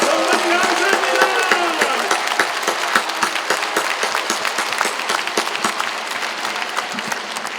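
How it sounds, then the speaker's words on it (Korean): A congregation at a large Catholic charismatic healing retreat applauds warmly, loud dense clapping that slowly thins, with a voice speaking over the start. "성모님께 뜨거운 박수를 보내겠습니다."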